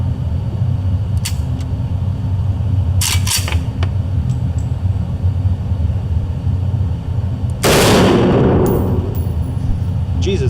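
A single loud rifle shot from an AK-pattern rifle fired at an indoor range, a sharp broadband crack near the end over steady background hum, with a few faint metallic clinks earlier.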